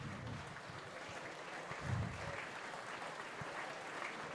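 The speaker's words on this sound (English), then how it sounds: "Round of applause here at Sandy Park for the Stockman players that have left the field." Rugby crowd at Sandy Park applauding players leaving the field during an Exeter Chiefs versus Stockman match, with a faint, distant, steady patter of clapping across the stands.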